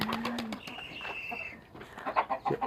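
Chickens cluck softly among pigeons at a pigeon and poultry coop, with a few short low calls and a faint coo, followed by a series of irregular clucks toward the end.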